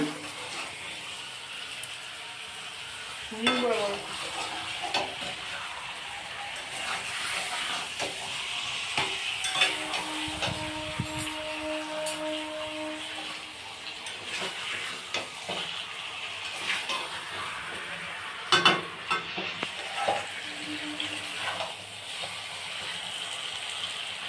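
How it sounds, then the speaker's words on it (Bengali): Chicken frying with spices in a pot while being stirred for biryani, a steady sizzling hiss with scattered scraping strokes and clatter, a brief low rumble midway, and faint voices now and then. "এখন চিকেনটা মশলার সাথে ভালো করে কষানো হবে"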